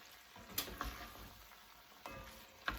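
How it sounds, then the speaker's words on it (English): Brussels sprout risotto stirred in a hot pot on a stove, with soft sizzling and a few faint scraping clicks of a spoon against the pot, quiet and close. "I'm gonna stir that up."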